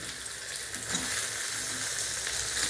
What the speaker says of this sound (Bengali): একসাথে দিয়ে আবারও কষাবো।